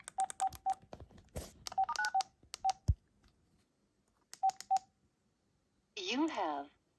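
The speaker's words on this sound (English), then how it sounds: "you have to dial an access number to access your voicemail" Telephone keypad tones dialing a voicemail access number, a string of short evenly spaced beeps in two clusters with pauses between, followed by a brief synthesized voice prompt.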